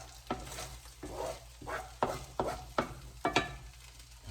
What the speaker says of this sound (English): our eggs are cooking up here nicely